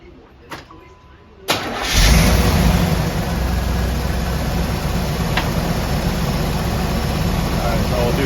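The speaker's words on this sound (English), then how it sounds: "I'll go ahead and start the car up" A Chevy V8 engine with a Renegade manifold cranks and catches after a brief quiet, then settles into a steady, fairly loud idle close by, during a rocker and valve adjustment.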